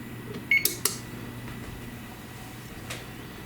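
Kitchen oven control panel beeping while a preheat temperature is set: a few quick, sharp electronic beeps and button presses near the start, then a quieter tick later over low room hum.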